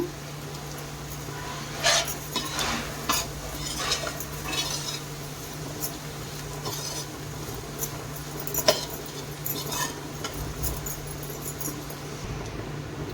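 Chicken fried rice stir-fried in a pan: a faint sizzle runs underneath while the spatula clicks and scrapes against the pan in irregular strokes.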